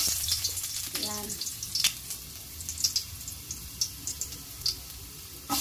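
Ginger hits a hot pan of oil and sizzles for ginataang, a close frying crackle with a few clanks and stirring scrapes, a brief voice faint underneath.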